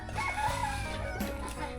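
Rooster crowing amid clucking chickens in a rural Lao village, a drawn-out crow rising over continuous low farmyard noise and background bustle.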